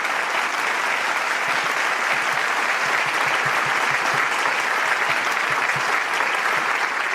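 A large festival audience at a youth blessing event gives a warm, sustained round of applause, a thick and even wash of clapping that carries on without a break.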